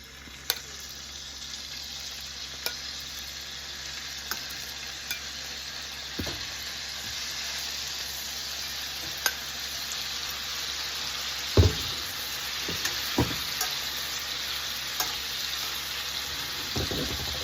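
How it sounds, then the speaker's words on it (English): Lamb chops sear in bubbling butter and oil, a steady close crackling sizzle with occasional louder pops and clinks of a pan or utensil, no voices. "Our butter and oil is getting bubbly, and in comes our lamb chops."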